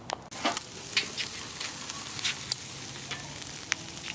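Pork seasoned with geera sizzles on a grill over high heat, a steady close frying hiss with scattered crackles and pops.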